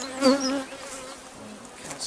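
Honeybees buzzing around an opened hive with lots of brood, a close swelling drone of many wings that peaks early then settles into a softer hum, with no talk.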